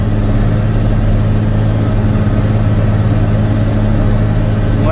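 Caterpillar 120K motor grader engine pulling under load on a roadside, a loud, steady low diesel drone with a constant rumbling hum throughout, close and unbroken.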